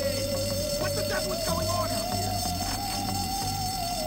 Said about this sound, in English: Turn on the fire alarm, okay?